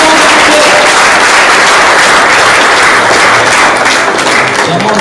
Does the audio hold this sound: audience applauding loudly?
yes